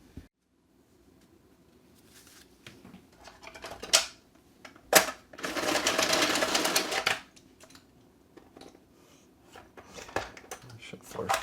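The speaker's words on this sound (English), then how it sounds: "I'll pick them up, form them into a deck, and shuffle them up." Overseers game cards gathered into a deck and shuffled: light tapping and clicking, a couple of sharp snaps, then a dense riffling burst lasting a couple of seconds, with quiet handling noises afterward.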